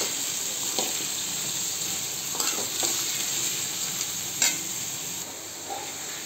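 Vegetables for chutney frying uncovered in a little oil, unpeeled and washed, giving a steady close sizzle and hiss throughout with a few faint stirring clicks and knocks, no talking.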